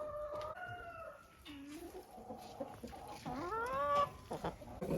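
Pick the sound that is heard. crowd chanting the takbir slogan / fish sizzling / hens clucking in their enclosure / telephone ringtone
hens clucking in their enclosure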